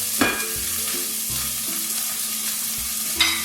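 Vegetables cooking in a pan for veggie quiche bites, a continuous close sizzle with a low hum and occasional soft clicks, no voices.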